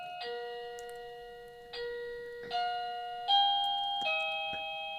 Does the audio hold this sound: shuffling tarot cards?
no